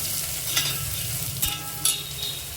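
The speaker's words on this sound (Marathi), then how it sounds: "आता आपण बोंबील टाकायचे, सुके बोंबील. त्याला असं परतून घेऊया." Dried bombil (Bombay duck) sautéed in a pan, giving a steady close sizzle with a few sharp stirring clicks and scrapes over it.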